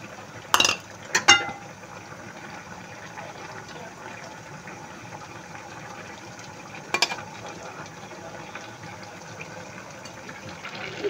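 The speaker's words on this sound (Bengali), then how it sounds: "এখন আমি শিং মাছগুলো দিয়ে দিচ্ছি।" Stinging catfish go into a pot of bottle gourd curry with a few sharp clinks and splashy thumps early on, then a softer knock later over a quiet, low simmer.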